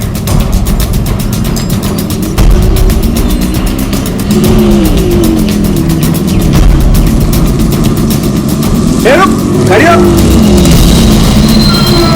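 A bus on a road brakes to a sudden stop: a constant loud engine and road rumble builds, then sharp rising squeals of the brakes cut through near the end.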